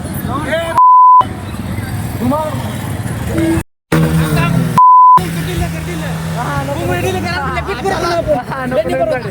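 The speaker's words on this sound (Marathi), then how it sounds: "आता सगळे गाडी घेऊन निघणार आहेत काफेला." Cars and motorbikes idle and pull away as a group sets off for a cafe after a school farewell, with engine rumble and horn beeps beneath loud crowd chatter and people talking nearby.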